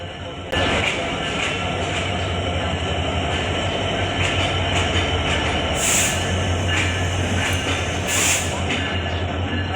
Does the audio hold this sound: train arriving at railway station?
yes